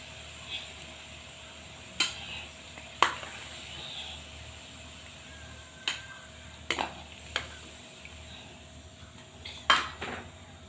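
Frying aloo kofta being turned in a pan with a metal spoon: sharp scraping clinks against the pan at irregular intervals over a soft, steady sizzle of oil, close and fairly quiet.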